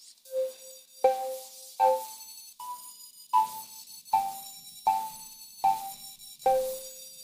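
A bright synthesizer tone plays a series of about nine short notes, each with a hissy, noisy edge on the high end, no voices.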